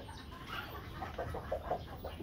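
Chickens from a Rhode Island and Silkie cross breed cluck in a short run of soft, repeated calls over steady low background noise, with no talking.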